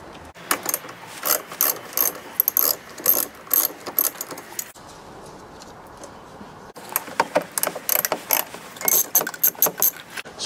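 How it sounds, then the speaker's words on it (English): Ratchet fitted with a 10 mm socket undoing a car battery terminal, giving loud, close, rapid clicking in steady bursts, with a short quiet gap midway before the clicking resumes. "Take my 10 millimeter socket and then undo this battery."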